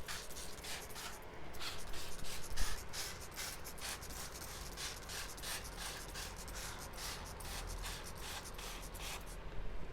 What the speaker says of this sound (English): Then you just spray those seeds.